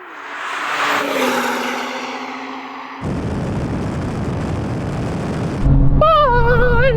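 Engines of BMW M2 cars roar under full acceleration in a drag race, with a loud rising drone, a sudden shift to harsh broadband noise, then a higher, wavering revving tone near the end.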